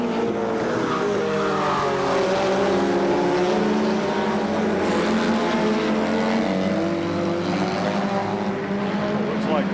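Midget race cars scream around Columbus Motor Speedway, a loud continuous roar of several engines with rising and falling pitch as they pass, with an announcer talking over the racket.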